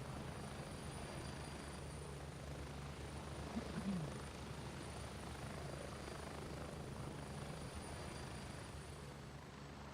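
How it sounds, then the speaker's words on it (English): Steady thrumming drone of a helicopter in a video game, a faint, continuous rotor and engine rumble holding evenly for the whole stretch with no clear change in distance. "Get away from the helicopter."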